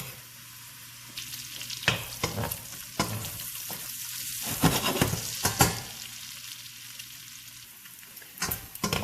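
Bacon frying in a pot over medium-high heat as the base for Manhattan clam chowder: a steady crackling sizzle broken by scraping stirs and sharp spatter pops, close and clear.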